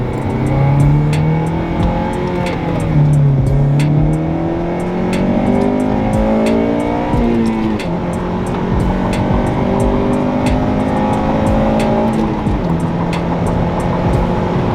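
A Honda Civic Si with a newly bushed shifter drives a back road, its engine droning loudly from inside the cabin as revs climb through several gears with shift breaks, accompanied by steady road rumble and regular ticking clicks.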